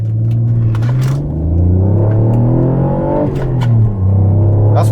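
Alfa Romeo 164 V6 Cloverleaf engine accelerating on the road, a loud close rumbling engine note rising in pitch through the gears with a short dip at a shift, heard from inside the car with no talk.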